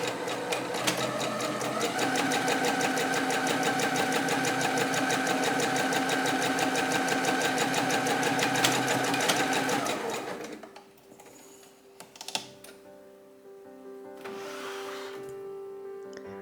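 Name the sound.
sewing machine stitching shirt cuffs and collar into tubes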